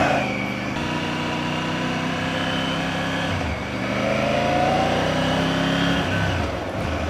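A Tiger 90 GT Pro motorcycle engine heard while riding, a steady close drone with a brief dip and shift in pitch midway as the revs change, running continuously without talk.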